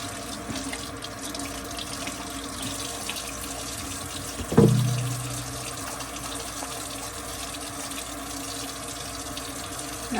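Water from a kitchen sink tap runs steadily while a goat milk soap bar is lathered under it. The flow is close and continuous, with one louder splash midway and no voices.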